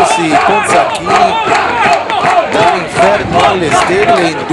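Ponsacco football fans celebrate a 3-2 win in a loud rhythmic crowd chant, voices rising and falling in repeated waves close by.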